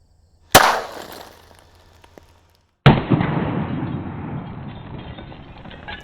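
.45 caliber gunshots hitting lightbulbs in a high-speed ballistic test: one sharp, loud shot, a quiet gap, then a second blast that trails off into a long, noisy rumbling decay.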